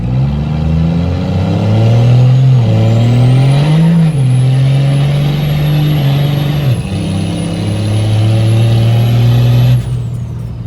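A turbocharged race truck fitted with nitrous pulls hard through the gears. The loud engine note climbs, drops at two distinct shifts and climbs again, with a high turbo whistle riding above it and no talking.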